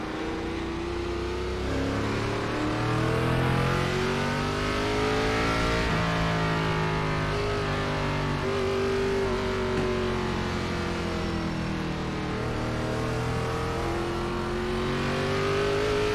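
Chevrolet stock cars in an iRacing ARCA Series race at the Charlotte Roval drone and rev continuously, several engines layered together with rising and falling pitch as they accelerate and shift, loud and steady throughout.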